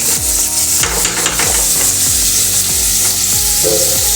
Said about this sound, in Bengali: মিডিয়াম ফ্লেমে এই পেঁয়াজটা ভাজতে হবে।